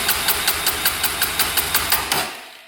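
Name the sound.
Honda 400ex quad engine with throttle opened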